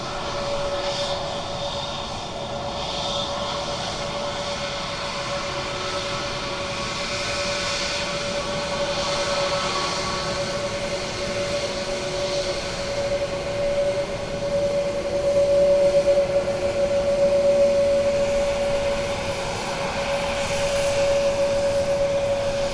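A jet airliner arriving at Dublin Airport on a Sunday morning rumbles steadily with a sustained engine whine, growing somewhat louder near the middle as it passes closer, heard alone without voices.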